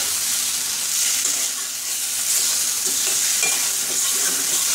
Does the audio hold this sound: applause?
no